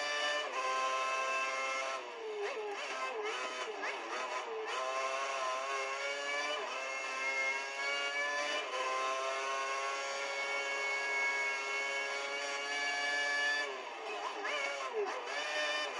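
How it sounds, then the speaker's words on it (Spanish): V8 Formula 1 engines in the F1 2010 video game on Xbox 360 scream at high revs, a loud, sustained whine that rises and falls through gear changes with faint commentary underneath. "Como chillan los V8"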